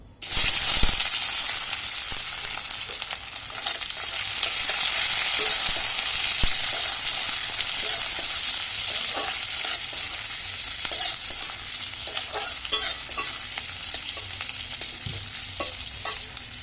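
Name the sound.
chopped onion frying in pan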